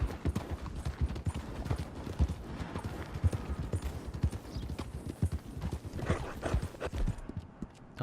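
Horse hooves clip-clopping in Red Dead Redemption 2, a brisk steady run of close, rhythmic hoofbeats over about eight seconds, with a brief whinny-like note and no speech.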